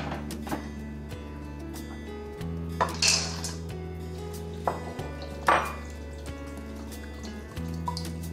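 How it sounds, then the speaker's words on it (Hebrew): Dry chickpeas being soaked are covered with plenty of water in a kitchen, heard as clinks of a pot or bowl and bursts of splashing water over a steady low hum, with no talking. "מכסים בהרבה מאוד מים"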